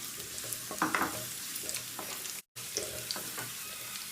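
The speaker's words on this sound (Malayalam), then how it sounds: "ഈ അണ്ടിപ്പരിപ്പും മുന്തിരിയും ഒന്ന് വറുത്തെടുക്കണം" Cashews and raisins frying in ghee, a gentle close sizzle with occasional stirring scrapes, briefly dropping out to silence midway.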